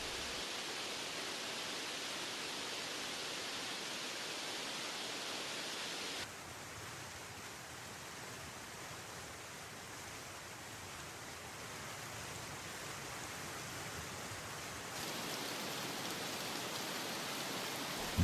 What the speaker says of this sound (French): partout, les rivières et les torrents se déchaînent